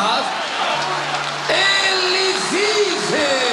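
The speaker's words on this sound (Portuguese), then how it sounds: "Mas se Ele ressuscitou, uma esfuziante salva de palmas" A church congregation breaks into a lively round of applause at a gospel conference, steady clapping with voices calling out and speaking over it.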